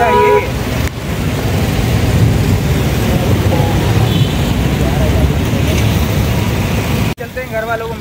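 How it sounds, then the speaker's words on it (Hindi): Heavy rain falls outside, a loud, dense, continuous wash with traffic noise mixed in, broken by a brief drop near the end. "और बारिश भी बहुत ही ज़बरदस्त किस्म की हो रही है बाहर"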